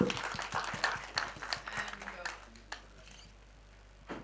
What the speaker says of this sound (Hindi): जोरदार तालियां हो जाए for this cutie, please